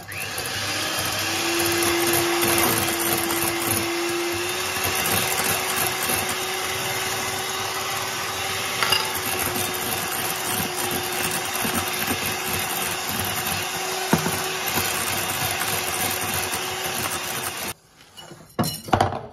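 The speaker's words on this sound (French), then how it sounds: "Maintenant, on va serrer les blancs, c'est-à-dire on va rajouter le sucre." An electric mixer whips egg whites while sugar is added, a steady loud whirring drone running close and continuous for most of the stretch before cutting off near the end, with no talk over it.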